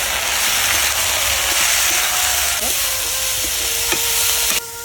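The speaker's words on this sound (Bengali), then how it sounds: "এবার একটু ভালো করে ভাজা করবো" A constant, fairly loud hiss of food seasoned with salt and turmeric frying in a pan, with a faint tone and a few light taps before it stops abruptly.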